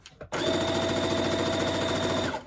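A sewing machine runs in one close, loud burst while stitching fabric for a scrunchie wristlet, a steady rapid mechanical whir lasting about two seconds before it stops.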